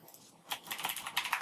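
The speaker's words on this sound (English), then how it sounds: "Typing." Quick bursts of clicky keystrokes on a computer keyboard, a few faint taps followed by a denser flurry of sharp, close clacks with no talking.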